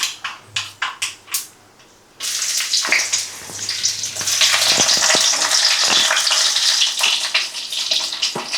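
Garlic drops into hot oil for a South Indian dried fish curry and sets off a loud, steady sizzle that holds to the end, after a few sharp, scattered pops from the pan.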